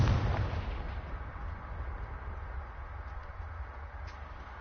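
A Confringo fire-blast spell in Hogwarts Legacy goes off as one loud, booming burst at the start, then settles into a low rumbling roar that fades slowly.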